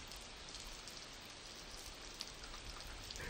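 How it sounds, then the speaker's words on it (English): Heavy rain used as a sound effect in a children's show: a steady, dense hiss of falling rain and drops, even and unbroken, fairly quiet, with no voices. "One day, it was raining very hard."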